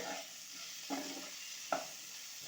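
Potatoes with turmeric and spices are stirred in a pan, with three distinct scraping strokes against a soft, continuous frying sizzle, quiet and close, with no talking.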